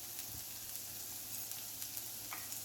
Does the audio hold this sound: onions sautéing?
yes